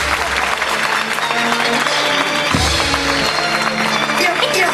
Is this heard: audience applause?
yes